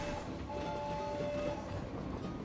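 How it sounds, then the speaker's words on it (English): A train rolls by in the video game My Time at Sandrock, a steady rumbling rattle of wagons with faint tonal hums, holding even and fairly close throughout without any talk. "Oh, there goes the train."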